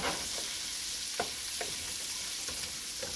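Butter and garlic frying hard over high heat, a steady close sizzle with a few clicks and spatula scrapes scattered through it, no voices.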